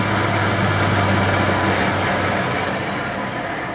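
Engine idling down after the throttle is backed off, a loud steady low rumble with a strong droning hum that eases slightly toward the end, with no voices over it.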